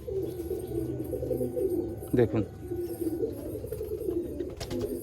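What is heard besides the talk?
big-size Mukho pigeons cooing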